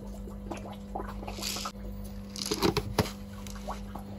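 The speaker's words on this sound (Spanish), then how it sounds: "No sé si se escucha. Está lloviendo." Rain patters outside a home kitchen while an oven is switched on, a soft, steady wash of drops with scattered louder taps and a constant low hum underneath, no voices.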